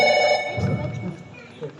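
A telephone ring sounds in an indoor setting, a brief steady ringing tone with harmonic overtones over the first half-second, followed by low mumbled voices and background noise.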